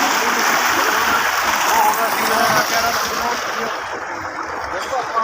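Water gushing hard and steadily from a solar-powered 7.5 HP pump pipe, a loud continuous rushing splash that eases slightly toward the end.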